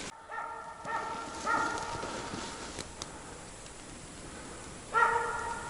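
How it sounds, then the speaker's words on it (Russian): A dog barks off and on in a forest, faint and distant, with a couple of short barks separated by quiet stretches over steady outdoor background noise. "С остановками лает."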